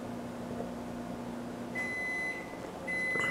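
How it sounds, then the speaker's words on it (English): A microwave oven signals that supper is ready with two faint, high, steady beeps from across the room, set against a low background hum. "don't mind that beeping in the background. That's Chef Mike telling me that my supper in the microwave is ready"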